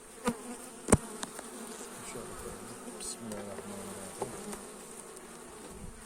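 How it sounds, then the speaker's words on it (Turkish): Dense, steady buzzing of many honeybees close by around a hive, with a few sharp knocks and clicks over the drone. "şu arı yoğunluğunu görüyorsunuz"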